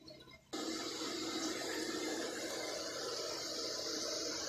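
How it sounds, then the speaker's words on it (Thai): After a brief quiet moment, a strong, steady gush of running water pours over pickled mustard greens as salt brine is rinsed off, continuing loud and unbroken to the end. "พี่น้องครับล้างน้ำเกลือออกก่อนนะครับแช่ไว้ตั้งแต่เมื่อคืนนี่แหละ"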